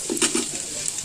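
Mustard seeds and urad dal crackle and sizzle in hot oil in a cooker for Indian sambar, a close, bright hiss with a few sharp pops near the start.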